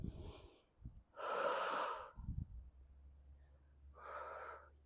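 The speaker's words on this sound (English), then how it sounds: "Inhale and exhale." Heavy breathing during a floor core workout, with two long, loud breathy inhale-exhale bursts separated by quieter gaps and a low hum underneath.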